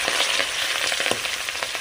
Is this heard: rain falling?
no